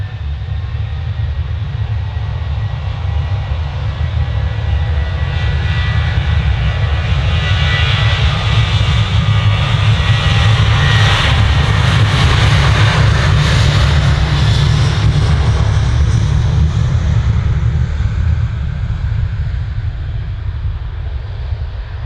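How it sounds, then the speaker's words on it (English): Ryanair Boeing 737-800 jet airliner at Manchester Airport, a loud sustained engine roar with deep low rumble and broad hiss swelling toward the middle and easing off, heard alone without talk. "It's Ryanair 737-800."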